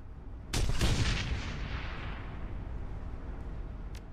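A burst of heavy gunfire from the Shadowrun: Hong Kong video game, several rapid loud shots in quick succession followed by a long fading reverberant tail, with a faint sharp pop near the end.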